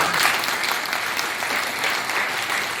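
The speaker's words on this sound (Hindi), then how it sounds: "सामा गुरु जी के लिए मैं जोरदार तालियां।" A crowd claps steadily in dense, continuous applause, loud and even for the whole stretch without voices standing out.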